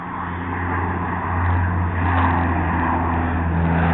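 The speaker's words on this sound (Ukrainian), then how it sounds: "Зараз, до речі, що то як літак підлітає, ось він." A continuous engine roar from a firefighting plane flying low over a burning landfill, steady and fairly loud, swelling slightly as it draws closer.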